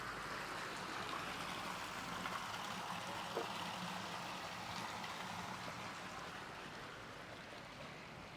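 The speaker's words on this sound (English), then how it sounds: "This water feature, fully masking the noise of the road out there." A garden water feature at a Montecito pool home trickles steadily, a continuous wash of splashing water blending with distant road noise for the whole stretch.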